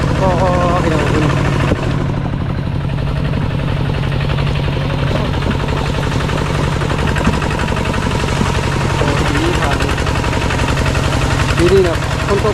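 A walking tractor's engine chugs and rattles loudly and steadily while driving through forest on a long trip, with people talking over the noise.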